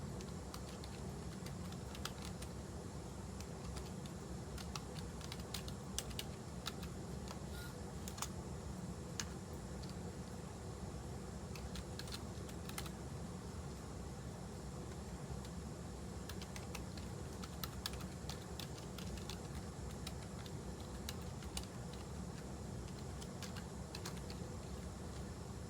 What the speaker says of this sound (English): so you type this exactly as so it's reg, add, exactly as I'm typing it